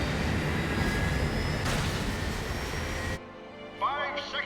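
Engines of the aerial warship Invincible roar in a dense, steady rumble with a faint whine, then cut off abruptly, leaving near silence with a brief voice.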